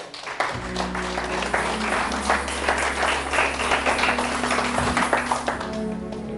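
A church congregation claps and cheers to acclaim the Lord, a full steady round of applause over a sustained low organ or keyboard drone, with voices mixed in.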